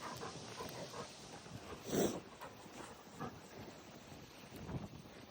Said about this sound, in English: It is a windy day out here today